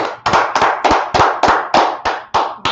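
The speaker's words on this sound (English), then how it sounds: "Let's clap it up for the Lord." A small church class claps in unison, about ten sharp, evenly spaced hand claps in a steady rhythm, close and loud with no talk over them.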